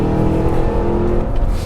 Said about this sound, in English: right now I'm in tour mode, which is, you know, the exhaust is in its quietest setting